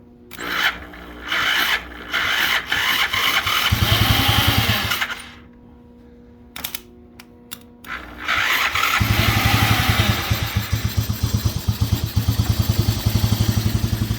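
A BMX 110 four-wheeler is being revived. The engine is cranked over in several loud, close bursts with pauses and clicks between them, then it catches and keeps running with a rapid, steady, rattly putter.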